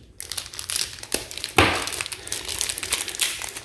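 Plastic shrink wrap is cut and torn open on a Fallout Shelter board game box, giving close crinkling and crackling with a sharper ripping burst partway through.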